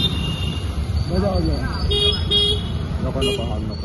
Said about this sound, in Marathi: हॉर्न वाजवू नका